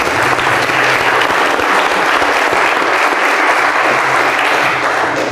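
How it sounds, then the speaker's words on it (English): Audience at a health freedom gala applauding a speaker, steady dense clapping from a large crowd, loud and continuous throughout. "You can give him another round of applause there."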